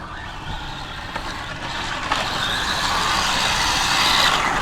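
A ZD Racing RX12 Rally Golf RC car, box stock, driving: a steady electric motor whine with gravelly road rumble, gradually growing louder and slightly rising in pitch as it runs.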